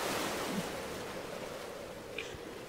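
Sea waves wash along a shoreline in a steady, moderately faint surf roar with a slight swell partway through; no one speaks.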